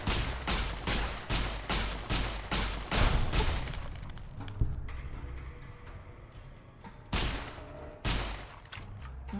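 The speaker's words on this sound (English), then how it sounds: "I can shoot him through the fence at least" Rapid bursts of gunfire in the video game Fallout New Vegas, loud sharp shots fired in clusters, then a quieter stretch of mechanical rattling before two more heavy bursts near the end.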